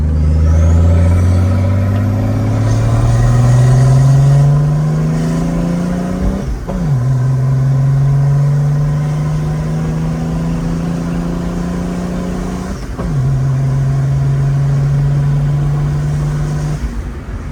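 A turbocharged Mercedes OM603 diesel with an adjusted, overfueled injection pump revs loudly and close, climbing through three long sweeping pulls with sharp drops between them, the turbo whine rising over the deep engine drone.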